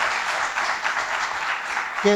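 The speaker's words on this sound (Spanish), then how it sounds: "Les pido un aplauso para los ponentes" Continuous clapping fills an auditorium audience at a fiscal and customs law conference, even and moderately loud for about two seconds, with a voice starting to speak at the very end.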